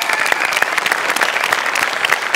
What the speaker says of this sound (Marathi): एकदा बाबांसाठी जोरदार टाळ्या जाऊ देतात